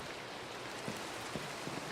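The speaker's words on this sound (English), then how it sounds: "Get this rain out of here?" Steady in-game rain in Minecraft Java Edition, a dense even hiss of falling drops that fills the whole clip at moderate level, with a few faint soft thumps underneath and no talking.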